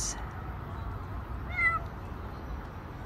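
A small kitten meows once, a brief high cry in the middle over a quiet indoor background hum.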